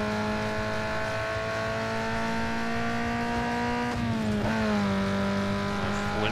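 A racing car in the video game Need for Speed Underground 2 holds a loud, steady engine drone while taking a corner too fast, with the pitch dipping briefly and then climbing again, and no talk over it.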